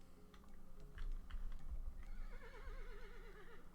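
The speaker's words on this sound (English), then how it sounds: "Hey, we have a horse." A horse neighs in Dwarf Fortress, a wavering whinny rising over a busy game backdrop of clicks and low rumble, clear and close for about a second and a half.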